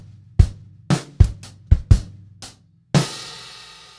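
A drum kit plays a groove from a Grade 4 piece, with a run of sharp snare and bass drum hits alongside hi-hat, ending on a ringing crash, close and solo.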